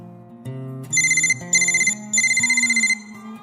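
A telephone ringtone sound effect playing a loud, clear electronic melody with repeated chiming bursts over a low tone, with no voices.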